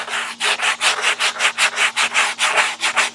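Coarse 100-grit sandpaper is rubbed by hand on a homemade camping A/C window vent. About fourteen quick, even back-and-forth rasping strokes come loud and close, with no voices.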